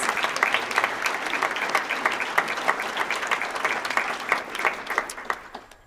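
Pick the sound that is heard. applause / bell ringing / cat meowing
applause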